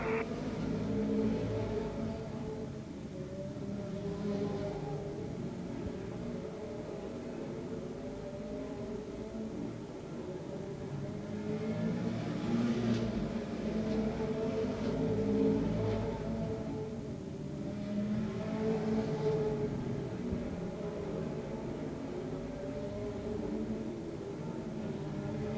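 Stock cars race laps at Rockford Speedway in 1981. A distant engine roar rises and fades in long swells as the cars circle the track.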